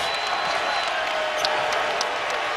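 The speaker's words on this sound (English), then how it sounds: "Crowd trying to get back into it." Basketball arena crowd at a Louisville Cardinals vs North Carolina Tar Heels game, a steady roaring wash of cheering and noise with a few brief whoops rising above it, loud and continuous throughout.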